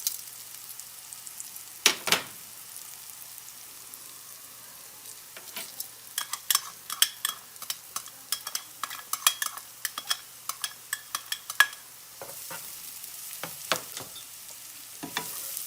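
Fresh garlic cooks alongside golden-browned mushrooms in a pan for garlic parmesan chicken, giving a faint steady sizzle broken by frequent sharp clicks and scrapes from a utensil stirring.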